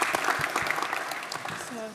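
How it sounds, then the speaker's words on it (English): A seated audience claps for a conference speaker, a short round of applause with a voice briefly heard near the end. "Let's give Bruce another round of applause."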